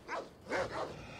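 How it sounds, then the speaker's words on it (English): Dogs bark several times in Assassin's Creed Odyssey, two or three fairly close yips and woofs in quick succession, with no talk over them. "Go away, dogs."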